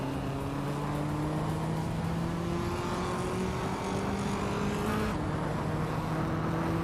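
Racing engine of a 1992 Audi V8 in a racing video game, a steady high drone with slowly rising pitch as it accelerates, briefly dipping on a gear change before climbing again, loud and continuous with no talk.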